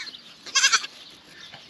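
Goats bleat in a short burst of several wavering cries close by in a farm garden setting, followed by faint rustling background.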